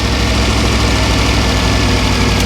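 A Morris Minor engine runs steadily at close range with a loud, even, low mechanical drone, held at constant speed rather than rising and falling.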